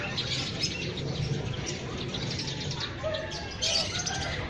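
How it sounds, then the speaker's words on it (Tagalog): Many birds chirp and call at once in a busy, noisy chorus, with scattered cooing and tweets layered over a constant hiss of background sound. "ang dami dito, iba't ibang ibon"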